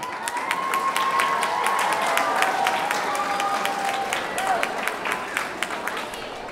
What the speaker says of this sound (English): can we give a round of applause to Mom and Dad?